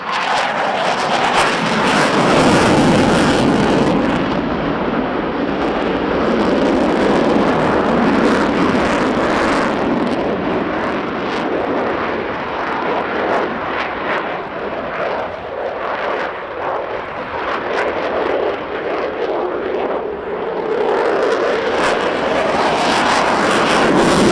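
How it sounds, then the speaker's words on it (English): Aircraft coming in to land at the Royal International Air Tattoo air show, a loud, broad jet-engine roar that swells and fades as it passes, with a faint hum of the crowd underneath. "Now let's go for a landing."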